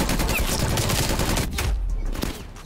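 Rapid bursts of UGR submachine gun fire in Call of Duty Cold War, dense crackling shots arriving close and loud, then easing off near the end, with no talking over them.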